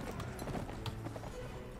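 Horse hooves in the video game Mount & Blade make quiet, steady clip-clop steps under low game background noise, with no talk heard.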